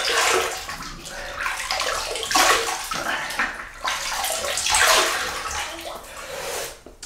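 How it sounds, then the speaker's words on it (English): Hot tap water runs and splashes continuously as a man wets his face before shaving with a 1961 Gillette Fat Boy adjustable double-edge razor, close and fairly loud with irregular sloshing surges throughout. "That was quite hot water actually."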